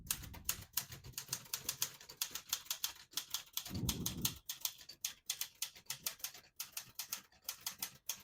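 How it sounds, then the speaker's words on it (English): A 1973 Olivetti Lettera 32 portable typewriter typing, with a rapid, uneven run of close, crisp key strikes and a brief heavier mechanical rumble near the middle. "Absolutely beautiful typing machine."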